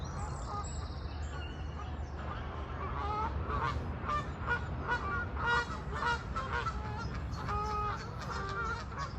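Loud honking calls of a duck on a misty lake repeat in irregular bursts over a constant low outdoor rumble, fairly close and insistent.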